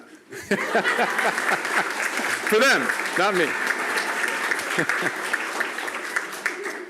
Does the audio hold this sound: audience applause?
yes